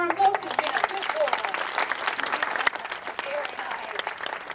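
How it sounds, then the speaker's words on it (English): Audience clapping for a river otter on stage at the San Diego Zoo, a lively burst of applause with a voice talking over it throughout. "you can applaud for him, folks"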